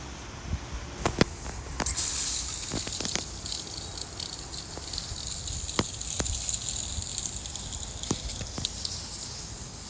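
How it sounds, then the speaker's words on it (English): Water poured over soil in a freshly repotted liquid amber tree, a close gushing, trickling stream starting after a second and running steadily, with scattered drips and small knocks and no talking. "finish up with watering"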